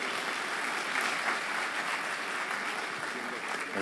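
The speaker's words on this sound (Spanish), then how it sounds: "recibamos con un fuerte aplauso al juez Alexander Díaz" Audience applause for a judge being welcomed to speak at a university cyberespionage panel, a steady wash of clapping filling the room at moderate distance for a few seconds.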